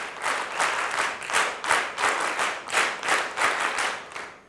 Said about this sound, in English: So one round of applause to Heena, ma'am, who's been with us today.